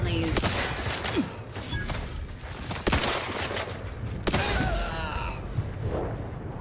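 Bursts of gunfire from a gun in The Outer Worlds 2, several sharp shots spaced across the clip amid a clattering firefight, close and fairly loud.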